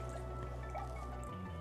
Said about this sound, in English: we're going to pour an additional cup